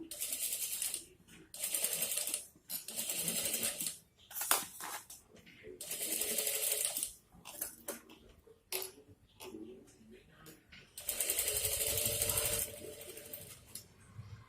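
A sewing machine stitches a blouse in several bursts of rapid, even clatter that are close and distinct, broken by pauses with small handling noises.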